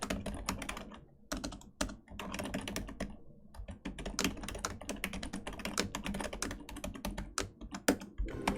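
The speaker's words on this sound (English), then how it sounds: "I'm just gonna type it in again." Rapid, steady typing on a computer keyboard while entering a cheat command in the game Don't Starve Together, close and continuous with brief pauses between bursts of keystrokes.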